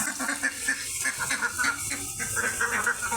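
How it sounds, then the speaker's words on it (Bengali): Ducks shut in a shed quack and honk repeatedly in a restless chorus, fairly close over a steady hiss of light rain, with no voices. "এই দেখো হাঁসগুলা বের হওয়ার জন্য কেমন করছে"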